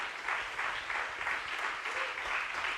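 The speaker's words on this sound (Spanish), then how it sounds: "Dele una ofrenda de palmas al Señor esta noche." A church congregation claps steadily through a Spanish-language evening service, a dense, even wash of applause with gentle surges that fills the room without any voices on top.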